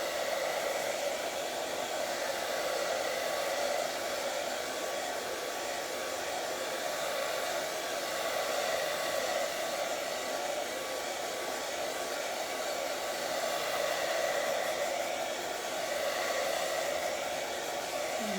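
A hair dryer blows steadily and close for the whole stretch, drying paint on a gel plate print made with magazine image transfers. Its even whooshing hum runs alone, with no talk.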